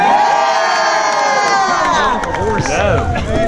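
A crowd at a Renaissance festival joust cheers loudly and close by, with many excited voices and children's shouts rising and falling together over several seconds.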